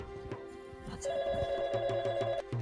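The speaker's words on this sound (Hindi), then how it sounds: "अरे कोई है जो फोन सुन ले, मुआ चिल्लाए जा रहा है कब से।" An indoor telephone rings with a bright electronic trill, pulsing tones repeating over a low background of music or room sound.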